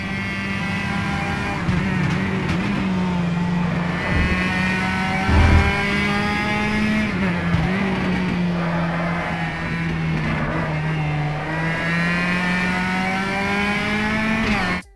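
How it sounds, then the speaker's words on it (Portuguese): Copa Petrobras de Marcas touring cars with 2,000 cc engines from well-known brands race in a sim racing video game, a loud continuous engine drone rising and dipping in pitch through gear changes for the whole stretch, with no talking. "A Copa Petrobras de Marcas, que é uma delícia de se conduzir."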